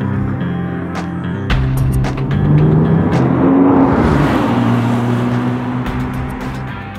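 A 2006 Porsche 911 Carrera S Cabriolet with a water-cooled 3.8-liter flat-six runs steadily, its engine note swelling in a smooth rev or pass near the middle before settling back, loud and close with no talking.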